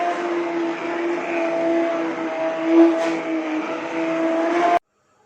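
An electric grinder runs steadily, blending mixed lentils into a smooth paste for chicken haleem, a loud close motor whine with a slight swell before cutting off abruptly into silence.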